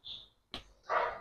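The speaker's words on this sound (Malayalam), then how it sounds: "പട്ടി ഭയങ്കര ശല്യന്നേ." A dog lets out a few short yelps and whimpers nearby, fairly loud, with quiet gaps between the sounds and no speech over them.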